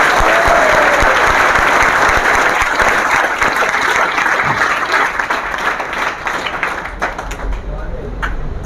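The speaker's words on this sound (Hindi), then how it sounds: "एक बार जोरदार तालियों से स्वागत किया जाएगा।" Applause welcoming a professor at a seminar, a loud, dense burst of clapping from a seated audience that gradually thins and fades out over several seconds.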